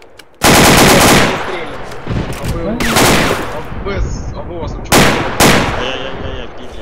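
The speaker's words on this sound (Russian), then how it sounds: "что у них АКМ сзади стреляют?" AKM rifle fire in ArmA 2 rings out in loud, dense automatic bursts. A long volley is followed by two more bursts, with echoing tails and a faint voice in the background.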